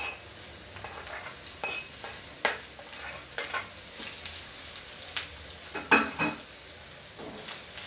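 Kerala-style prawns frying in a pan with chili powder, stirred with repeated scraping strokes over a steady soft sizzle, close and moderately quiet with no talking.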